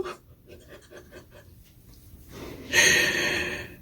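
A dog sniffs and snorts close by in short rhythmic puffs, followed by a louder rustling burst as it grabs a towel.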